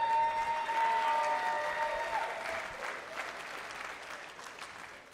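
An audience claps steadily for an executive taking the stage at a championship awards event, the applause loud at first and gradually thinning, with a few cheers and crowd noise underneath.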